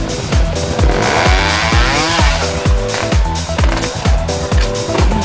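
A loud trial motorcycle engine revs repeatedly in sharp bursts at a trial championship in La Nucia, close by, rising and falling in pitch with no talking.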